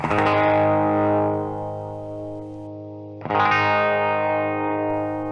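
An electric guitar with Gibson '50s-style wiring and the volume knob rolled back to about 7 rings out two strummed chords, each sustaining and fading, bright and fairly clean with some effect coloring.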